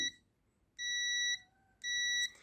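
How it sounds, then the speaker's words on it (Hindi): A continuity tester gives steady electronic beeps while probing the connections of a mobile phone's number keypad, two sustained, loud, high tones with short silences between, close and alone. "बीप आ गया"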